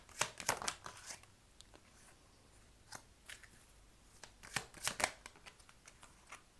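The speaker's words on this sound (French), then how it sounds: "Je vais vous tirer encore 3 cartes." Tarot cards shuffled and drawn by hand, a run of quick crisp riffles and snaps at close range, then a pause and a second cluster of brisk card flicks, quiet and without talking.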